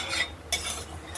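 Moong dal is dry-roasted in a kadai in strong sunlight, stirred with a spoon that gives soft scraping sweeps and a couple of light taps against the pan, with no voices.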